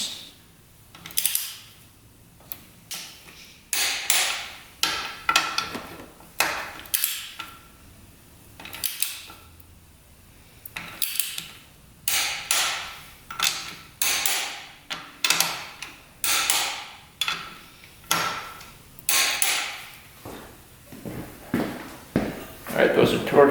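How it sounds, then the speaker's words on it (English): A wrench clicks and ratchets in repeated short bursts while bolts on a modified race quad are re-torqued to 14 foot-pounds, close by with quiet gaps between pulls. "Just gonna re-torque them to 14 foot-pounds."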